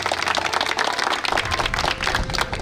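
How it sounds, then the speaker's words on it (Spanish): An audience applauds at a community gathering, with dense, fairly faint clapping that continues steadily for a few seconds. "Aplauso por favor a estos señores."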